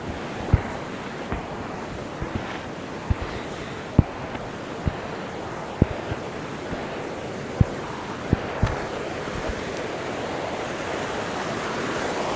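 Canal water rushes steadily past in a continuous, broad wash, with a few small clicks and knocks scattered through it.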